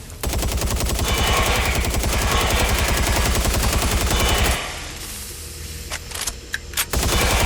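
Rapid, loud automatic gunfire in Watch Dogs Legion hammers for about four and a half seconds, then stops, leaving a low hum with a few faint clicks and short bursts near the end.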